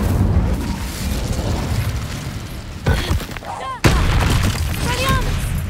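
Incendio fire spell cast in the Hogwarts Legacy video game: loud booming bursts of flame and blasts, with sharp hits partway through and a steady roar of game effects and voices underneath.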